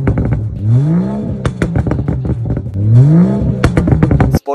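A 2014 BMW 435 M-Tech with a downpipe, Borla aftermarket exhaust and air intake revs hard twice. Each rise climbs and then drops back, with crackles and pops between, loud and close before cutting off abruptly.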